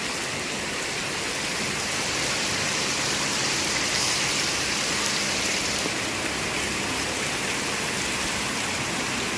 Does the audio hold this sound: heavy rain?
yes